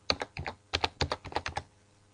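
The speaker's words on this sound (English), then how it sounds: "I'm just going to type in aspirin." Quick, crisp keystrokes on a computer keyboard tap out a short burst of about a dozen presses, close and alone, then stop.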